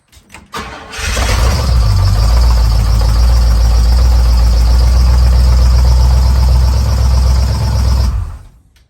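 A 1968 International 1200C 4x4 truck engine cranks briefly, then catches and runs loudly and steadily at close range with a deep rumbling idle, its exhaust needing repair, before cutting off.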